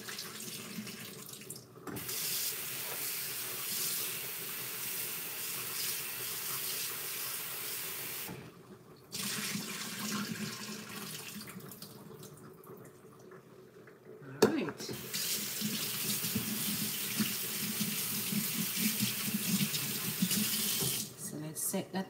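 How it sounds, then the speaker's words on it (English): Kitchen tap water runs steadily into a sink while soaked salt fish is drained and rinsed, the flow stopping and restarting a few times, with a clunk as it resumes. "drain off this water, give it a rinse."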